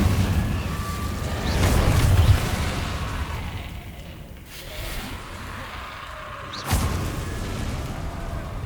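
An Incendio fire spell blasts in the video game Hogwarts Legacy with a whooshing, rumbling burst that swells and fades, followed later by another sharp impact over continuous game ambience.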